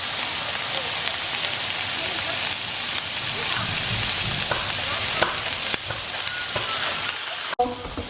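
Asparagus sizzles and crackles steadily in a hot pan, a dense continuous frying hiss with occasional pops and light stirring clicks throughout.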